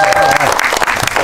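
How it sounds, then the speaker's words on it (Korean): Audience applause during a stage greeting at a Megabox COEX cinema screening, a short burst of steady clapping from the crowd filling the room. "자, 박수 부탁드립니다."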